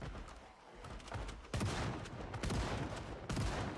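Shotgun fire at zombies in the video game Project Zomboid, three heavy blasts spaced about a second apart over a dense, noisy in-game background.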